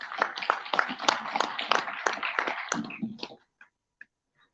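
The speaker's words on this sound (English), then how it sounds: "Miss Saranya, big round of applause for her, please" Applause at a sustainability congress: a small, close group clapping in distinct, fairly rhythmic claps that taper off and stop near the end, followed by a couple of isolated faint clicks.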